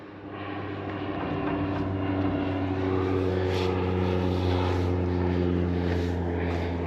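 A propeller seaplane flying over the coast near a fort's gun battery: a steady, loud engine drone that holds throughout, with no voices.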